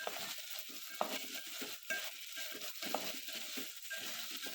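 Washed field beans (pavta) stir-fried in oil, a soft sizzle beneath repeated spatula scrapes and occasional sharp clinks against the pan, close and fairly quiet.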